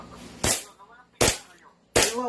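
Three sharp, loud shots from a 2011 Hi-Capa airsoft pistol fired at a steady pace about three-quarters of a second apart, each a hard crack with a short decay over quiet background.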